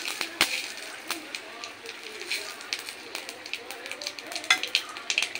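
Cumin seeds and dried red chillies crackling in hot oil for tempering mung dal with bottle gourd, a close, bright sizzle with sharp pops and spatters.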